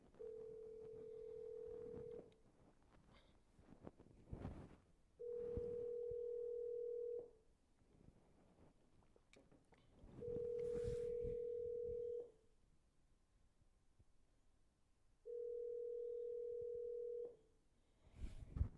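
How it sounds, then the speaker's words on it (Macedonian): A telephone line gives a steady tone while calling someone back: four long, even beeps of about two seconds each, separated by quiet gaps with faint background noise. "ќе пробам јас да возвратам со јавување"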